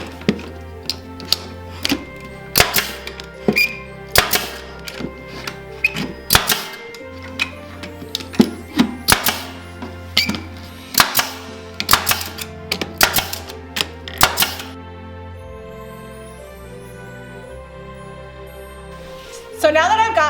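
Sharp staple-gun shots fire repeatedly into wooden boards while a Christmas tree stand box is built, irregular clacks close up with brief thuds, and a person talks in between.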